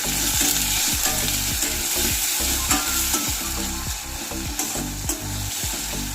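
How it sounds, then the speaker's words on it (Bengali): Chopped tomato sizzles loudly in a hot frying pan while a spatula stirs it in repeated scraping strokes, with the frying hiss continuous throughout. "একটা টমেটো কুচি দিয়ে দিলাম। হালকা নেড়ে নেব।"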